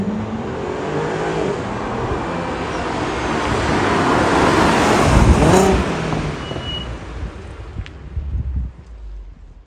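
Audi A3 3.2L V6 revving hard and pulling away, a loud, rising engine roar that swells to a peak midway and then eases off, with wind noise and no talking.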